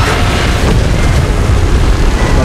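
A thunderous energy-beam blast from the Kong and Godzilla vs Mechagodzilla video game, a loud, dense, continuous roaring explosion that fills the whole moment without letup.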